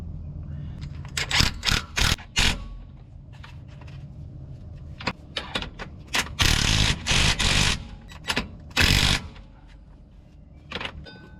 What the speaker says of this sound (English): This right here is where I'm tightening down with a 15 millimeter socket wrench.